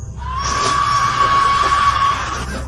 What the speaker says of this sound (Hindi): तभी दूसरी चीख,